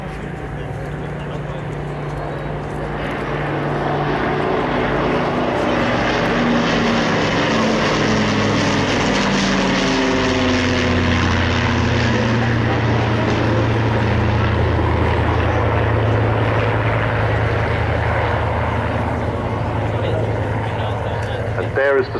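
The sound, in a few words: Lancaster and Spitfire fly-by, four Rolls-Royce Merlins and one Griffon engine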